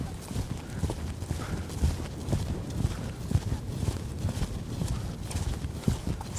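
A loping horse's hooves beat a steady rolling rhythm on the ground, close and continuous throughout, with faint creaks of tack under the repeated hoofbeats and no talk.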